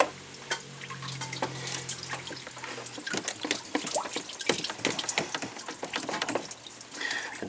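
Water splashes and drains steadily from a disconnected bottom radiator hose on a 2015 RAM 1500 with a 5.7L engine into a pan below, a continuous close trickling with irregular drips and gurgles.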